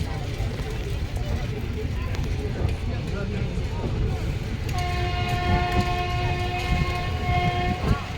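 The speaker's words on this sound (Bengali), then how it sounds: "এখন ট্রেনটি পাস করছে মহানন্দা নদীর উপর অবস্থিত মহানন্দা রেল ব্রিজের উপর দিয়ে।" The Haldibari Intercity Express rumbles steadily across the Mahananda rail bridge, heard from inside a second-seating coach, and then a long sustained horn sounds through the last few seconds.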